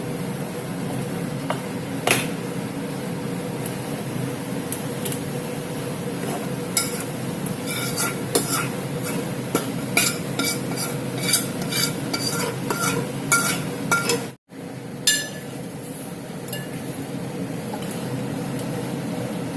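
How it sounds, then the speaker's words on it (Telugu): Wood apple chutney being stirred into a hot tempering in a pan for vela kaya pachadi, a steady close scraping and stirring with faint sizzle and occasional utensil clinks, with no talk. "ఉంచుకున్న పచ్చడి ఈ విధంగా వేసుకుని కలుపుకోవాలన్నమాట"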